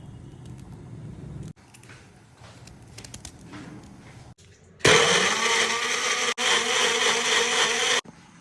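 A mixer grinder crushes tomatoes, onion, ginger and green chillies, a loud steady high-pitched whir that kicks in after a few seconds of quiet kitchen handling and runs continuously with one brief pause.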